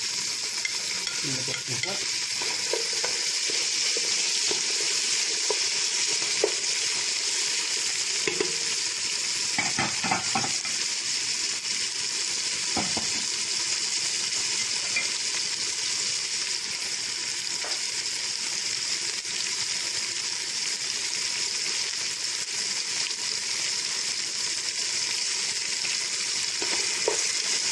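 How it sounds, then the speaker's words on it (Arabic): Vegetables for a lentil and vegetable soup, including red onion, are stirred in a pot with a steady sizzle and repeated scraping and clinking of a utensil, with a brief spoken remark. "كنبداو نضيفو الخضرة ديالنا كاملة"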